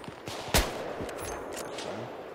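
A single sharp, loud crack from an M98B sniper rifle in Battlefield 3 on Caspian Border, followed by quieter game ambience and a few faint distant noises.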